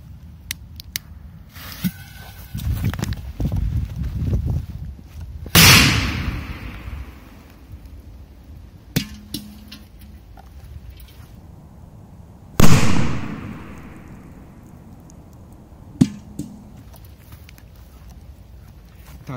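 Several sharp, loud firecracker bangs, including a large K-1000 firecracker set under a metal can, go off outdoors, spaced seconds apart, the biggest two around the middle with brief echoing tails, between quieter rustling and handling noises.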